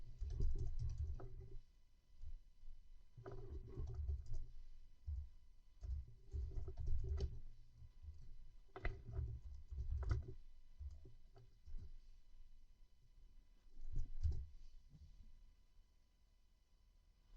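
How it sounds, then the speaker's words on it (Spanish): Computer keyboard keys, including Shift, Tab and Enter, pressed while navigating an Excel 2021 spreadsheet: a close series of soft clicks and taps in uneven bursts separated by short pauses. "si presiono Shift y Tab, en realidad me moverá de regreso a la izquierda"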